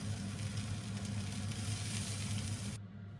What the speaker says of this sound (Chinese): 准备一口平底锅，热锅，放入前面剔了骨的牛排，